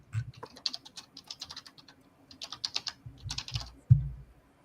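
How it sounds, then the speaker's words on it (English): Clicking computer keyboard typing in bursts of quick keystrokes, close and moderately loud, with a soft low thump near the end and no voices. "Someone's typing."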